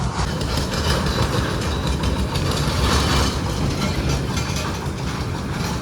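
A small ride train at Gandhibagh garden in Mahuva rumbles past with a continuous clattering roll and rhythmic wheel clicks, loud and close for several seconds.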